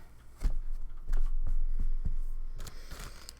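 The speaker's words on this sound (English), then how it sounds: "Sorry for the crinkling near the microphone." Plastic or packaging crinkles close to the microphone during a needle felting session, with sharp crackles and rustles in irregular bursts.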